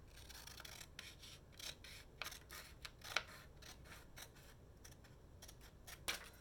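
Scissors snip through a paper label in quiet, close short cuts, a series of soft crisp snips irregularly spaced with faint paper rustling between them.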